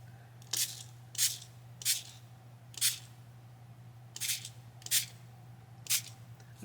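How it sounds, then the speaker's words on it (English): A spray bottle spritzes eight times in short, sharp hissing bursts at a slow, uneven pace over a quiet low hum. "spray these with water"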